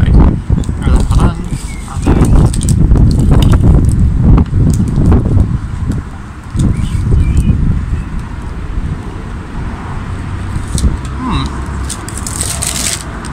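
Strong outdoor wind buffets the microphone in heavy rumbling gusts that rise and ease, loud and close, with a person talking over it.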